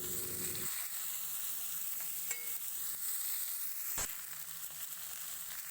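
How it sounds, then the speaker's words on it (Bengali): Chopped ridge gourd goes into hot oil with crackled radhuni seeds, giving a faint, steady sizzle with a brief drop-in sound at the start and one sharp utensil knock near the end. "রাঁধুনিটা ফুটে গেছে, এর মধ্যে কেটে রাখা ঝিঙেগুলো দেব।"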